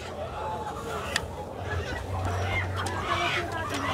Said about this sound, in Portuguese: tem até galinha, gente.